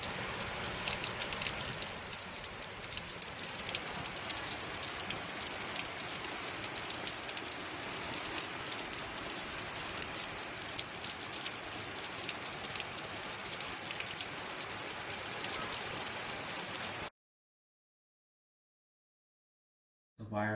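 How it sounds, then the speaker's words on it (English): Steady, dense rain hiss pours continuously, close and even, then cuts to silence near the end before briefly returning. "why it's raining?"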